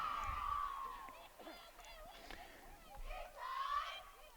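Girls soccer team, the Golden Eagles, shouting their team cheer before a 5A championship playoff match, bursts of high young voices rising and falling over a distant crowd murmur.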